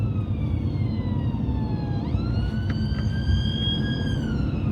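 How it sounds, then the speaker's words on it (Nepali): Ambulance siren wailing through London traffic, its rising and falling tone steady and fairly close, with a pitch jump midway, over a constant rumble of engines and road noise. "एम्बुलेन्स आयो त्यो एम्बुलेन्सलाई चाहिँ मैले हेर्नुपर्ने हुन्छ कता जाने हो त्यो"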